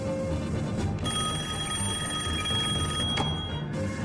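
An old desk telephone rings with a bright, continuous electric bell for several seconds, loud and close, in a quiet room during a wartime drama set in the 1940s.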